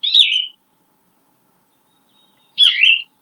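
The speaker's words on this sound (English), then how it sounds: "Somebody also saw a yellow-throated vireo this week, so let's hear what that one sounds like." Two short, bright phrases of yellow-throated vireo song from a played recording, each about half a second long and separated by a couple of seconds of silence, clear and fairly close.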